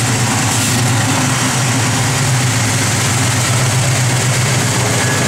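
Big block V8 in a 1967 Chevrolet Chevelle SS with a mild cam, idling on pump gas with a loud, steady, deep rumble close by and no pauses.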